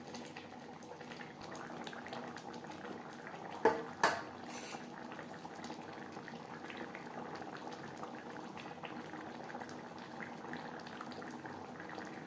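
Egg curry gravy simmering in a pan, a steady low bubbling hiss running throughout with two brief utensil clinks early on.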